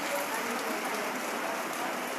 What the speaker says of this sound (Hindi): बरसात हो रही है जो जोधपुर शहर में है, वो आप देख पाएंगे कि बरसात हो रही है।